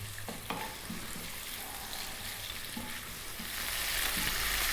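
Chopped onion frying in a pan for a vegan sweet potato masala curry, a steady close sizzle with a few soft clinks, growing slightly louder toward the end.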